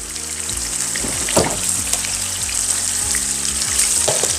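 Frikadellen meat patties frying in a pan over medium-high heat, a steady loud sizzle with bubbling pops and a low electrical hum beneath, no talking.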